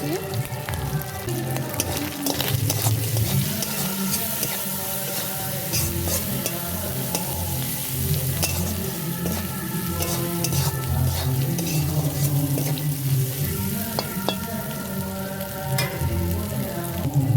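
Continuous sizzling of shrimp frying in a pan with turmeric and salt, with frequent scraping and clinking of a spatula as it is stirred, close and fairly loud.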